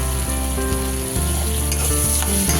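Bitter gourd pieces fry in oil with green chillies, giving a loud, close, continuous sizzle with some stirring and no talking.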